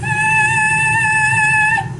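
A voice imitates a boiler's high-pitched squealing whistle, holding a steady, loud, piercing whistle-like tone for about two seconds before it cuts off.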